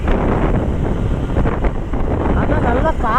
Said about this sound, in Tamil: நல்லா காற்று அடிச்சிட்டு இருக்கு